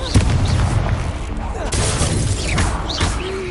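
Spell blasts cast in the game Hogwarts Legacy: repeated booming, explosive hits and crackling impacts in quick succession, loud and dense, with a voice over the combat.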